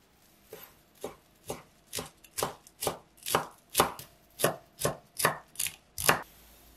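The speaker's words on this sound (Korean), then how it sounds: "파슬리 송송 썰어 넣을게요" A knife chops parsley on a cutting board in about a dozen crisp, evenly spaced strikes, close and clear, with no one speaking.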